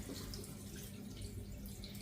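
Millet grains being rinsed in water, a faint, steady wash of trickling and sloshing water with small drips, quiet and without speech.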